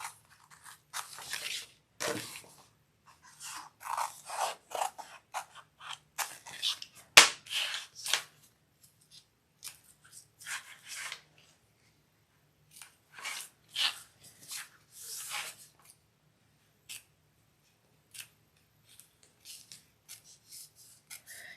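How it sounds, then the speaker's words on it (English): Scissors snip through fabric lining at a zipper overlay, with bursts of crisp cutting and rustling separated by quiet pauses, close and fairly soft. "I am going to take some scissors and cut out the lining that's in the middle of the zipper overlay right here"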